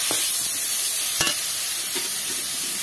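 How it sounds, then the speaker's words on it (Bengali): Red lentils and whole spices frying in hot oil in a pan for a pointed-gourd dal, a constant bright sizzle with a few scraping stirs of a spatula, close and steady with no talking. "এগুলো দিয়ে একটু ভাজা ভাজা করে নিতে হবে।"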